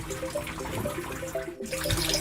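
Water flows steadily through a hydroponics biofilter, a continuous close rushing and trickling wash with no voices over it.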